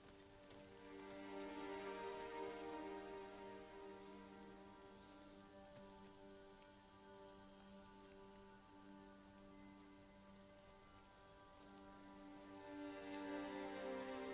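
Steady rain patters down on surfaces during a funeral scene in Spider-Man on PS4, a faint continuous hiss that swells and eases under layered sustained musical tones, with no talk.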